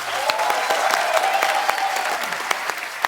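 A studio audience at a comedy talk show breaks into loud, sustained applause, dense clapping filling the whole stretch with a few sharper claps standing out.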